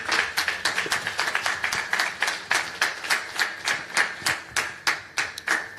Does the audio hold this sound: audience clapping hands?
yes